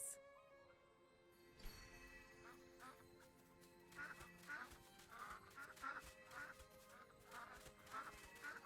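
Ducks in the game AFK Journey quack in a lively cluster of repeated short calls over a soft musical background, close and moderately loud, with several quacks in quick succession.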